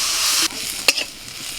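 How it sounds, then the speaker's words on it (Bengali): Onions frying in hot oil in a home kitchen, a steady broad sizzle that drops abruptly partway through, followed by a couple of short stirring scrapes and a quieter continuing fry. "পেঁয়াজটা ভাজা হয়ে গেছে"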